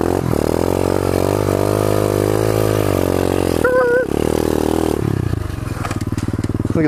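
Pit bike motorcycle engine held at full throttle on a dirt trail, a loud, steady high-revving drone that dips briefly and then returns with a rougher, pulsing tone.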